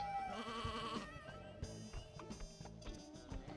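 Sheep bleat in the video game Sheep Raider, with a wavering cry at the start followed by short cartoonish effects and clip-clop sounds, all at low volume.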